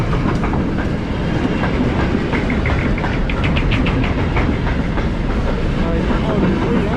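A goods train passes close by, a loud continuous rumble with rhythmic clickety-clack of wagons over rail joints running the whole time.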